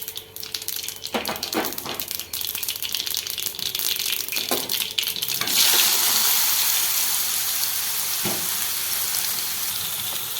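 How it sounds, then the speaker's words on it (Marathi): Cumin and mustard seeds crackling in hot oil with chopped ridge gourd nearby, a few sharp rattling clatters and then a rising, steady sizzle, close and without talk. "मध्ये तेल घेतलं आहे आणि जिरे मोहरी टाकली मी"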